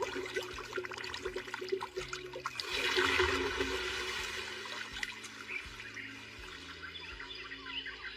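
Magically summoned water gushes and flows in an anime scene, a steady rushing wash that swells near the middle and continues at moderate level over a low droning background with faint chirpy detail.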